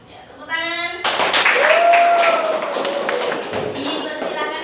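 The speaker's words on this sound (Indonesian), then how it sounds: "Ya, tepuk tangan." A classroom audience bursts into clapping, many hands tapping together in a dense, loud patter that swells and then tapers off over a few seconds, with a voice heard briefly at the start.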